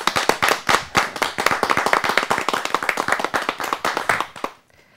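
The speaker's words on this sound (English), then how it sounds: "Let's give a good round of applause for Miss Tasha Ford with The Gas Effect" A small audience gives a round of applause for a speaker, sharp, distinct hand claps in a quick, uneven rhythm close by, lasting about four and a half seconds before stopping abruptly.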